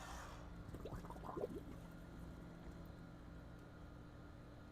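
Efurden handheld pool vacuum running underwater in a spa, a steady low motor hum with burbling water and a brief splashy gurgle near the start, faint and continuous, no talking.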